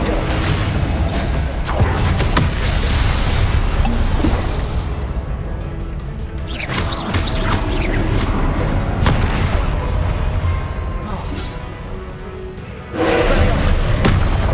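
Confringo blasting spell impacts in the video game Hogwarts Legacy land as loud thuds and booms with whooshes and crashes, striking repeatedly through a busy, continuous fight soundscape.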